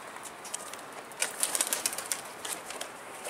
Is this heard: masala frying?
no